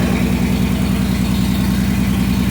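A 1949 Plymouth flathead six engine with a Weber carburetor idles steadily and loudly up close, with a rhythmic low chugging that stays even throughout, occasionally cutting out on the number 4 cylinder.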